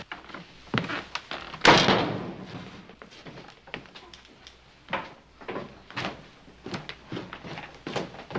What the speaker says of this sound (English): Shut the door, will you?